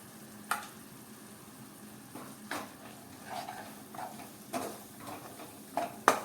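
Spinach and green pea curry with turmeric, coriander-cumin powder, Kashmiri chili powder and salt being stirred in a frying pan, a soft steady sizzle broken by several sharp spoon scrapes and taps against the pan, close and moderately quiet.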